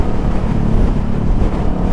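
A Kawasaki Ninja 650 motorcycle fitted with a new Orion muffler rumbles steadily while riding. The engine tone is loud and continuous, mixed with wind rush.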